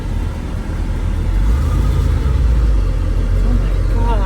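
A 1977 Ford F150 pickup's engine rumbles deep and loud nearby, rising into a heavier revving growl partway through, with voices faintly in the background.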